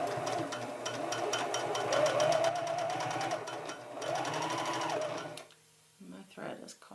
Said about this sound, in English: I'm sewing by a mark on my sewing machine, which is around 1/4 inch